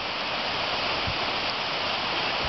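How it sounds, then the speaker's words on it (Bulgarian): A mountain waterfall near hut Rai roars in a loud, steady rush of broadband water noise, heard close up at its base, with no voices. "Ето ни отново в подножието на самия водопад"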